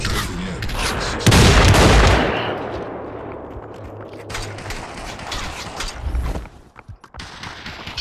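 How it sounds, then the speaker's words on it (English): Gunfire in the VR battle royale game Population One: a loud burst of shots and a boom, then scattered shooting and sharp cracks continuing at varying distances, with faint voices in the background. "There's someone shooting it."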